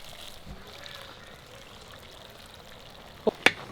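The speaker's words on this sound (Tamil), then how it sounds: "அப்படியே தண்ணி ஊற்றுங்க." Leftover rice-draining water is poured into a pot of chicken vadi biryani, a soft steady trickle with two sharp clinks of a vessel near the end.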